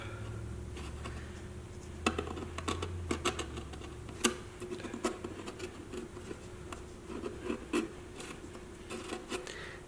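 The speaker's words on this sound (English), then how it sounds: "I'm going to work that bevel all the way around." A knife shaves a small bevel around the edge of a violin top plate, a series of short, crisp, close cutting clicks and scrapes at an irregular pace over quiet room tone.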